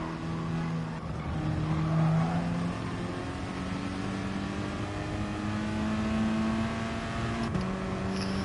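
A race car in the video game Gran Turismo Sport drones steadily through the whole stretch, its engine note rising and falling as it shifts and accelerates, with faint tire noise and no talking over it.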